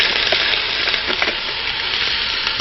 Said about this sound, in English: So we're going to saute this just in oil, just a very small amount of oil at the bottom of the pan